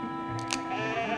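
Sheep bleating in the Spirou cartoon as the animals escape, a short wavering bleat rising over a sustained musical drone, preceded by two quick bursts of noise.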